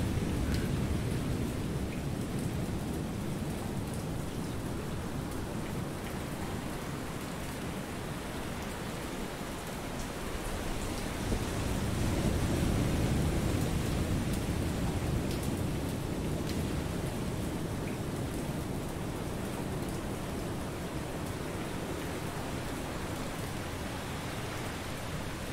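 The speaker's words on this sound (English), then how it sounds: "Sea State 5, raining." Rain and thunder at sea in the naval video game War on the Sea make a steady hiss of heavy rainfall with low rumbling swells, faint and continuous throughout, with no voices.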